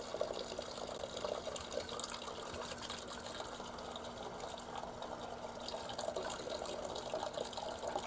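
Sago pearls being rinsed under running water, a steady wash of flowing tap water and splashing that carries on evenly at moderate level, with no talk over it.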